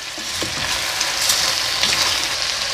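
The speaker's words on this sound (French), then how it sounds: "Je viens ensuite ajouter la tomate que j'ai coupée en morceaux, ainsi que les lentilles. Et je vais laisser revenir 1 minute de plus." Tomato pieces and lentils sautéing in a hot pan, a steady close sizzle with soft stirring scrapes throughout, no voices over it.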